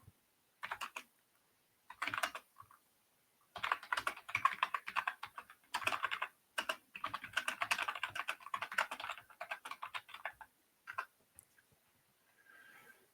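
Typing on a computer keyboard in a document editor, with bursts of quick key clicks broken by short pauses, heard up close with no talk.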